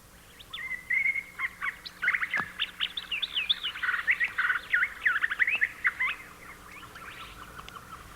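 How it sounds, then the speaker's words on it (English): A black-headed grosbeak sings a rapid run of bright chirping phrases beside dripping water in Madera Canyon, clear and fairly close, then fading toward the end. "First on the scene is a familiar black-headed grosbeak."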